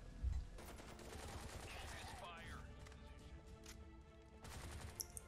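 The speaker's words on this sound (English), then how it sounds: "Sound effects seem to be lacking on the lower end, with a lot of the bass not coming through in the gunfire" Gunfire from the video game Bright Memory, a steady stream of rapid shots with thin, light-bodied bass, running continuously through the clip at moderate level.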